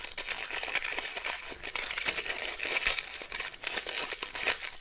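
Candy wrappers, including sour sweets and strawberry rip rolls, crinkle and rustle as they are pulled open, close and continuous with irregular sharp crackles for several seconds.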